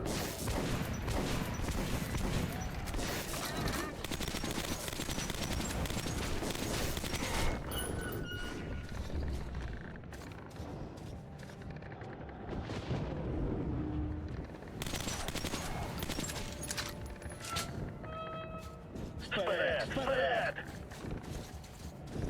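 Bursts of gunfire ring out in the video game Metro 2033 Redux, rapid automatic volleys and single shots mixed with game sounds while players talk excitedly over them.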